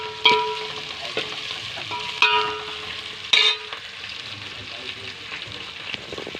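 Ginger sizzling and frying in a hot pan, a steady crackling hiss with a few louder sharp spikes as it is stirred, close and fairly loud, with no talk.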